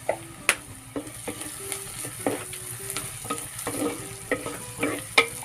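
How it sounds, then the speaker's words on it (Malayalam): Sliced onions fry and sizzle in a pan for a Kerala-style prawn roast, with a steady sizzle under repeated scraping stir strokes and spoon taps against the pan, close and moderately loud, with no talk. "സവോള ഒന്നുകൂടെ മുരിഞ്ഞ് വരണം കേട്ടോ"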